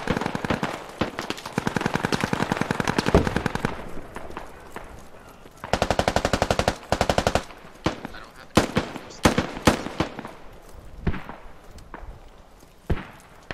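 Machine gun fire rattles in the video game Squad, long rapid automatic bursts with gaps between them, then scattered single shots and short bursts that fade toward the end.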